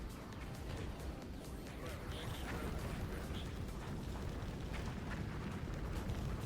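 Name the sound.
explosions in video game Project X Light Years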